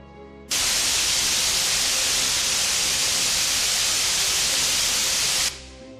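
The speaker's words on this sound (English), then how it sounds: "we'll have to spray you down so that no outdoor bacteria can make its way in" Steady broadband hiss of a decontamination spray mist on a themed Journey to the Center of the Earth touring ride, switching on abruptly, holding loud and even for about five seconds, then cutting off.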